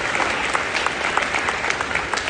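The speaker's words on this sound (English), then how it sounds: "Can we have a round of applause for that?" A live audience claps steadily after a promise of a free suit during a diversity talk at HKUST, a dense wash of many hands with no voice standing out.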